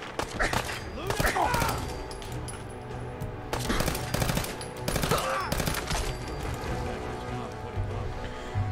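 Rapid bursts of automatic gunfire from Fallout 4 crackle loudly in repeated volleys, with a few heavier shots standing out amid continuous game noise.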